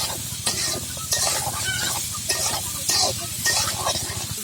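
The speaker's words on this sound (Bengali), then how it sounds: "এর ভিতরে কাঁকরোলগুলো দিয়ে দেব, দিয়ে একটু ভালো করে ভেজে নেব" Teasel gourd (kakrol) frying in a spice mixture, with steady close sizzling and a repeated rhythmic scrape of stirring in the pan, with no talking.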